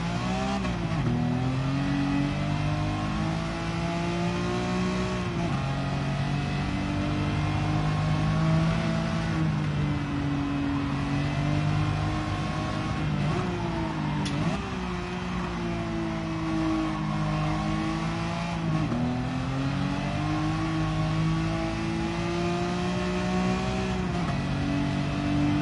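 A GT3 race car engine in Gran Turismo 7 roars loud and continuous, rising and falling in pitch as it accelerates, shifts and eases off through corners, with no talking.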